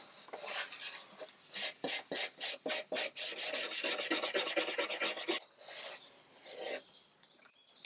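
Hand sanding on a wooden table, a close rasping scrape repeated in a quick back-and-forth rhythm of about twenty strokes, then a brief softer rub.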